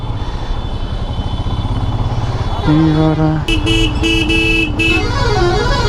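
Stalled traffic in a road jam on the way from Varanasi to Kolkata during the Kumbh Mela, with engines rumbling up close and several loud, overlapping car and motorcycle horns honking in bursts.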